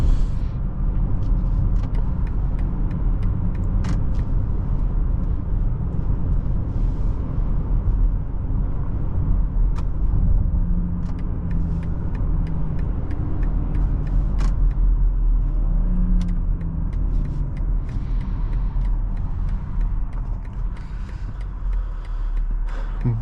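A 2021 BMW X5 xDrive40i driving at part throttle, its engine and road noise forming a steady, even cabin rumble that holds throughout without letting up.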